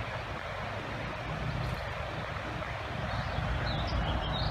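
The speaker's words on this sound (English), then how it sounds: "Here on a creek, you could hear it." A bush creek flows steadily, a continuous broad rushing wash of water close to the microphone with no other distinct sounds.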